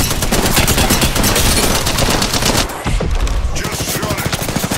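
Dense automatic gunfire from an Apex Legends match, loud and continuous with rapid rattling bursts, a brief heavier boom near the middle, then the shooting carries on steadily to the end.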